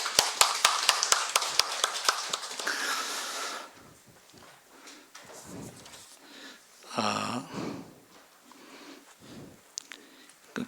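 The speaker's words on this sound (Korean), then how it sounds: "박수를 칠 땐 다 같이 치셔야 됩니다." A church congregation at a Sunday morning service claps hands together in a brief burst of sharp claps, then the room falls quiet with faint shuffling and scattered small noises.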